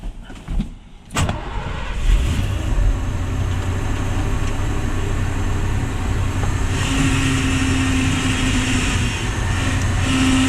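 A truck engine, with the driver trying to spin the wheels to relieve pressure, runs as a loud, steady drone after a brief clunk near the start, holding a constant rumble with a slight rise toward the end.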